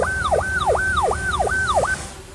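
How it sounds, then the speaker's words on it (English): A police car siren wails, sweeping up and down in repeated swoops, loud and close, about five cycles in steady rhythm over a low background rumble. "So there's your siren."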